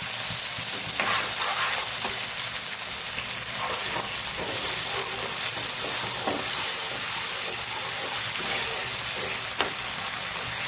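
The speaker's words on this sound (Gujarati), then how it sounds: "સાઈડ ઉપર કાઢેલી તરી જે હતી એ આપણે પાછી સાતળવાની છે" Curry sizzles and crackles in hot oil, a steady frying hiss with occasional scraping as it is stirred in the pan for sev usal, and no talking.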